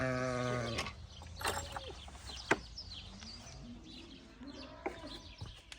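Sheep, probably a ram, bleat from a pasture on a New Zealand thru-hike trail, a wavering call at the start followed by scattered fainter animal and bird sounds at moderate distance.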